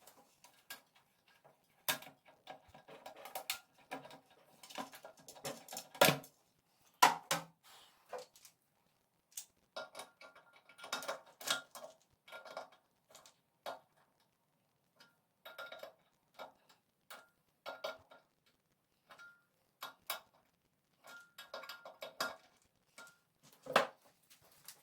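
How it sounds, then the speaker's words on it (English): Toilet seat hinge screws are tightened by hand, producing scattered small ticks and clicks in irregular clusters with quiet gaps between them, close up and with no voices. "tighten the screws"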